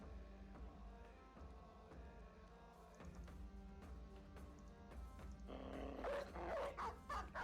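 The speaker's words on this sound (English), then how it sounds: "Now we've got some armored warhounds on the battlefield." Armored warhounds barking on a battlefield in the video game Battle Brothers, repeated barks and yips over game music, with the dogs getting louder and busier toward the end.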